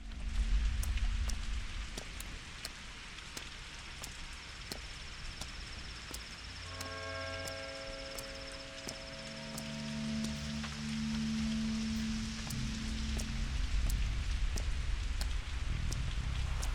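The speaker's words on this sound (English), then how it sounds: "Just having an invigorating rainy jog." Steady rain falls in the video game Pathologic 2, a constant hiss with scattered drop clicks, while tonal game sounds and low rumbling effects come and go in the middle.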